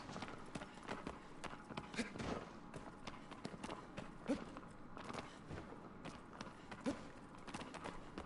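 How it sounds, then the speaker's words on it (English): Horse hoofbeats in Shadow of the Colossus, a black horse trotting along with steady, fairly quiet clip-clop footfalls under faint background ambience. "Aggro is normally a black horse."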